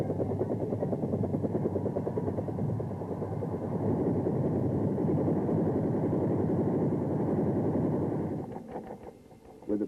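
Troop-carrying helicopters fly with a steady rotor thump and engine drone that stays loud and continuous, then fades slightly near the end.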